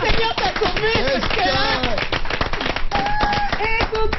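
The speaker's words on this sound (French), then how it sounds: "On va t'applaudir." Studio audience on a French evening talk show clapping together in dense, loud continuous applause, with a voice speaking over it and occasional whistle-like tones.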